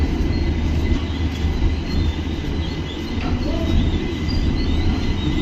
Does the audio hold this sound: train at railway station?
yes